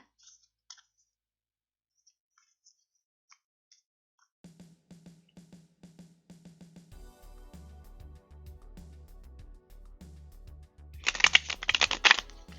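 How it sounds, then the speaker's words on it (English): Playing cards riffle in quick, crisp bursts after soft scattered clicks and tapping, fairly close and with no talking. "oh, you could hear me shuffling though."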